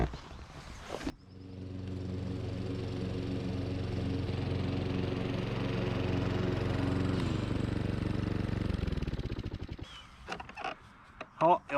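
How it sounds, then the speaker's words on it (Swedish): A Honda HRX 537 lawn mower with a 200 cc engine runs at a steady drone for about eight seconds, then winds down and stops, followed by handling noises and clatter. "jag har ju valt Honda som klippare, eller en av dem. HRX 537. Den här har en 200 kubiks motor"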